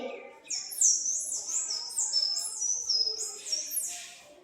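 A child whistles an imitation of a sunbird's call, a rapid, high-pitched string of quick rising and falling chirps, close up.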